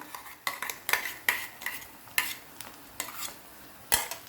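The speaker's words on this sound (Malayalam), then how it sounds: "എന്നിട്ടൊന്ന് ഇളക്കാം" Sugar-free carrot halwa with milk powder and raisins being stirred in a pan, a run of distinct utensil scrapes and clinks at an uneven rhythm over a faint sizzle, close by and without talk.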